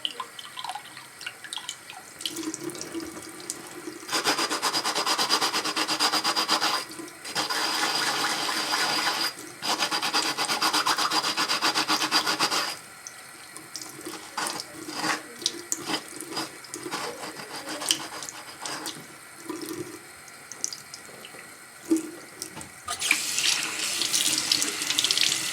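Bathroom faucet running hot water in bursts, the splashing stream switching on and off several times, with drips and small handling clatters between flows; no talking.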